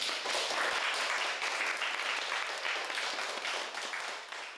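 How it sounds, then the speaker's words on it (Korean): Applause from a class of students closing a coding and Arduino interactive-art lesson, a dense burst of clapping that holds steady before tapering off at the end. "자, 박수로 마무리하도록 하겠습니다."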